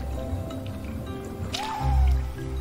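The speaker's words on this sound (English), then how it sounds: "The water effects, the ambience, and all that stuff" Wet swamp water sounds from Ori and the Blind Forest's Thornfelt Swamp: soft drips and squishy sloshes, a brief rising watery tone in the middle, then a low swelling rumble beneath the ambience.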